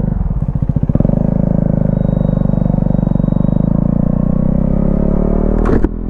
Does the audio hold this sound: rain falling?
no